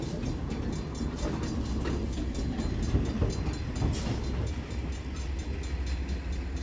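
An empty coal train rumbles steadily past on damaged CSX rails in Greenwich, Ohio, a loud continuous roar with faint rhythmic clatter of wheels, close by and uninterrupted.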